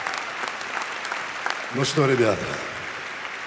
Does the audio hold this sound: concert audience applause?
yes